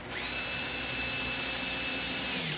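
A power drill drives screws into a handmade wooden flag, a single steady whine held for about two seconds, close and alone.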